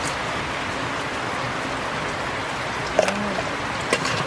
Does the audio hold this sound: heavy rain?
yes